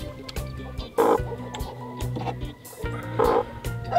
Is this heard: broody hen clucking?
yes